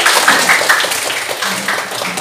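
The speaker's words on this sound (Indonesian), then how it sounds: "Oke, tepuk tangan buat kalian" A class of vocational high school students in Indonesia breaks into brisk, close applause, a dense patter of many hands clapping that stays steady for a couple of seconds.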